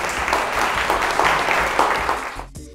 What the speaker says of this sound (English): Let's have a round of applause for Trill Cards.